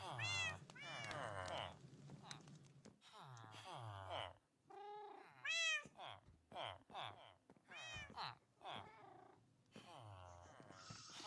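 Cat in a Minecraft-style video game meowing and purring repeatedly in short bursts, fairly close and soft, with a person talking in between.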